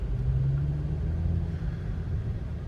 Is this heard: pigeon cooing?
no